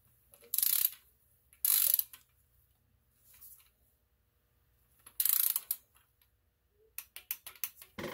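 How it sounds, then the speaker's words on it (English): A ratchet torquing down an engine sensor during an Infiniti oil gallery gasket repair gives several short bursts of close, fast clicking separated by quiet pauses, ending in a quicker run of clicks. "I installed this sensor here, and I'm about to torque it down."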